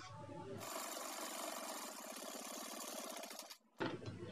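An electric sewing machine stitches a fabric sling bag, running in one steady, close, rapid whirring burst for about three seconds before stopping, followed by a brief handling clunk.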